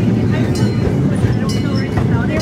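A zoo train ride heard from on board: a brief, loud, steady rumble and rattle of the moving train close by.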